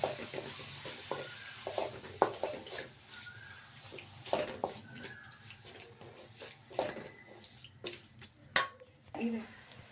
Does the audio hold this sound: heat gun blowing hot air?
no